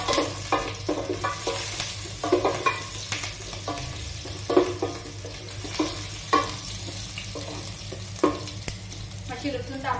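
Crushed garlic and green chillies frying in a pan for Goan muga gathi, a close steady sizzle broken by rhythmic spoon-stirring scrapes every second or so, no talking.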